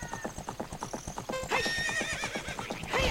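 A horse in The Legend of Zelda: Ocarina of Time gallops with rapid, even clip-clop hoofbeats, then lets out a loud, wavering neigh that rises over the steady galloping.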